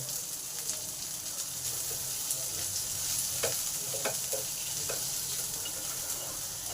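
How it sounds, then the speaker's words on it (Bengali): Salted onions fry in a pan with a constant close sizzle, while a utensil stirs and scrapes against the pan in a series of short, irregular clicks. "পেঁয়াজটাকে একটু সময় নিয়ে লাল লাল করে ভেজে নেব"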